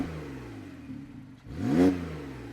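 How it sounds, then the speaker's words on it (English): A Porsche 911 991.2 Carrera S Cabriolet's engine blips once from idle on a cold start with standard exhaust, a short rising rev that swells and falls back. "I'll just press the accelerator so you can hear what it sounds like standard"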